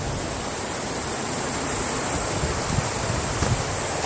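A mountain valley stream in Yangyang, Gangwon Province rushes steadily past rural land, a constant close broadband wash of flowing water with no pauses.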